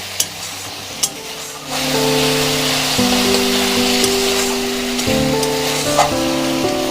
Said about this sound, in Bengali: যতক্ষণ সরিষা পোস্তর কাঁচা গন্ধটা না যায় ততক্ষণ আমরা কষিয়ে নেব।